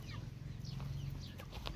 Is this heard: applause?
no